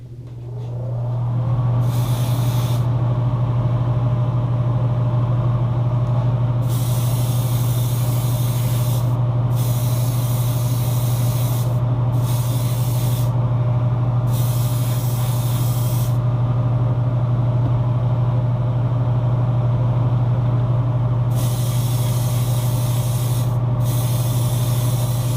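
Spray gun applying automotive-grade paint thinned with automotive reducer to an International Harvester Transtar truck cab, a loud steady hissing spray held continuously, with bursts of brighter air hiss switching on and off throughout, close and alone with no talk.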